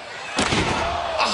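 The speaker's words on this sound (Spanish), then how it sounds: "Estas sillas son de metal, de verdad." A metal chair strikes a wrestler in a TLC championship match: one sharp, loud crash followed by a sustained wash of arena noise, with a second impact near the end.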